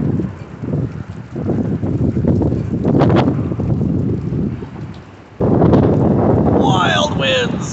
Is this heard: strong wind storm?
yes